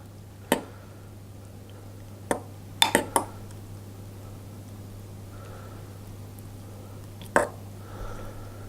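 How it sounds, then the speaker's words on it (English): A spoon stirring crumbled blue cheese in a bowl, giving a handful of sharp clinks and scrapes spaced out over a quiet background with a steady low hum. "And I'm going to stir that around."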